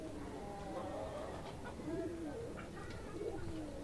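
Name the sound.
local pigeons cooing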